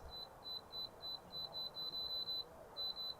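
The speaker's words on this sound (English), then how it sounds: "Oh, I know that beep's got to be annoying." An Alpicool K18 portable refrigerator beeps insistently, a steady series of short, evenly spaced electronic tones with a brief pause before the beeping resumes, alone without talk.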